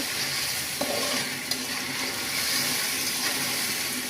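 Meat for biryani cooks in a pot, giving a continuous close sizzle and bubbling hiss with a couple of small clicks from stirring, no voices.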